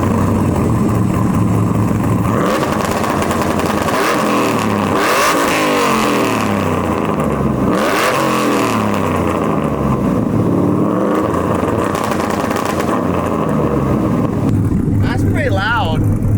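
An LS1-powered Silverado with a T56 manual transmission revs hard, rising and falling in repeated loud swells of engine noise at close range, with talk mixed in.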